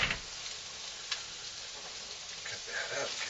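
Egg going into a hot pan of chicken lo mein cooked in olive oil, a steady bright sizzle with a few faint clicks and stirring scrapes, fairly quiet and close.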